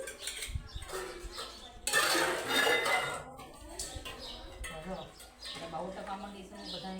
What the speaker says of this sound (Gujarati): બધા વાસણ મૂકી નાખું.